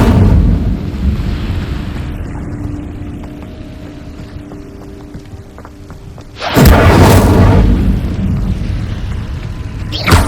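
Incendio fire spell cast in the Hogwarts Legacy video game: a sudden loud fiery whoosh-blast at about six and a half seconds cuts over a low rumbling background and holds, roaring, to the end.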